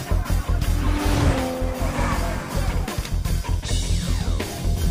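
A Nissan Skyline R34 engine roars loudly with tyres skidding and squealing, continuous and close, with bursts of revving throughout.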